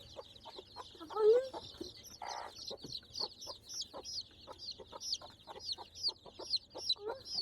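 Hens and a rooster on a village farm cluck and call in short repeated bursts, close and fairly loud, with higher chirps from chicks over a low steady hum.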